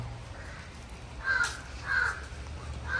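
Crows caw three times, each harsh call spaced about half a second apart, over a low steady background rumble.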